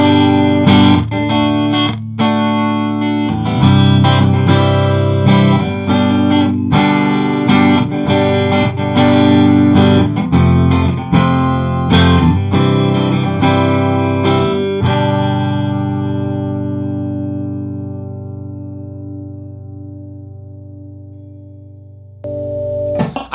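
Clean electric guitar, a 1996 Gibson SG Standard through an Orange Rocker 30 amplifier, strummed chords and picked notes ringing out, ending with a long sustained chord that slowly fades, no talking.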